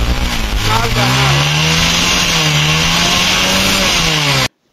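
A motorcycle engine runs just after a wiring repair, a loud, close, steady buzzing drone with a slightly wavering pitch, a brief word spoken over it, then it cuts off abruptly near the end.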